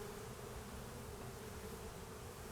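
A low, continuous hum of honeybees fills the air around the hive on a January inspection day, an unbroken buzzing without speech.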